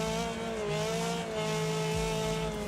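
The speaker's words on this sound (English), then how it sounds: "That inline 6 just roaring away in the high revs." An inline-6 race car engine in Wreckfest holds a loud, steady high-rev roar with tonal harmonics throughout and a slight pitch dip near the end, alone without talk.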